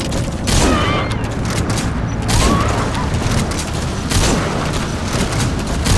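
Gunfire and explosive booms in Metal Gear Solid V, loud repeated blasts and bursts of shots in waves, with shouted voices over the action.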